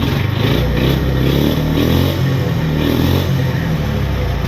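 A 1995 Suzuki GN250 motorcycle, neglected for fifteen years and being revived, runs close and loud with a steady throbbing single-cylinder idle and slight rises in engine speed through gear changes, no talk.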